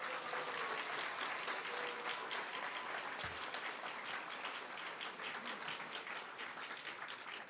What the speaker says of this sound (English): one big round of applause for everyone